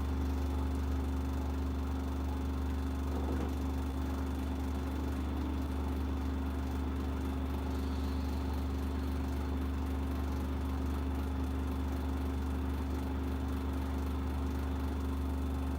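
An LG direct drive washing machine drones steadily as it spins up, a constant low motor hum with a sustained tonal whine, moderately loud and unbroken for the whole stretch.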